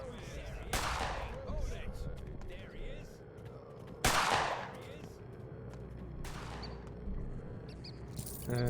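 Gunshots ring out in the video game Pathologic 2. Three or four loud, sharp reports come at irregular intervals, each followed by a short echoing tail, with faint ambient sounds and bird chirps between them.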